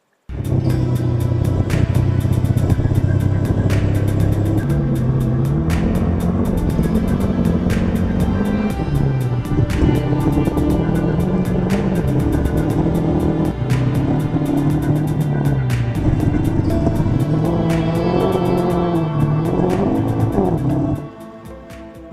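A Jawa RVM NEO Scrambler 2023 motorcycle on Pirelli MT60 tyres is heard while riding, its engine droning loudly and continuously with rising and falling revs and periodic gear-change dips, close up, with no talk.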